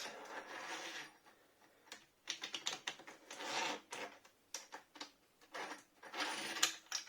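Small scratchy ratcheting and clicking bursts come from a screw being driven to fix a plate back onto a motorcycle throttle grip, in close, intermittent spurts separated by brief pauses.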